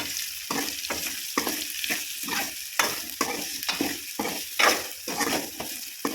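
Bitter gourd sizzles in hot oil while a spatula stirs and scrapes the pan in a steady, repeated rhythm, up close.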